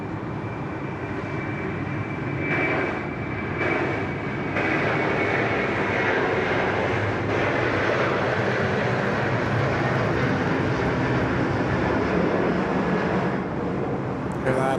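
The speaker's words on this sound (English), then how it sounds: "Lovely big rotation there from Qantas." A Qantas Airbus A330 takes off at Sydney Airport, its engine roar broad and steady for the whole stretch, with a voice talking over it.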